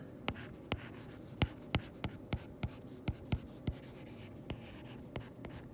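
Equations written by hand on paper, with a steady run of quiet pen taps and short scratchy strokes at an uneven pace, close and soft over low room noise.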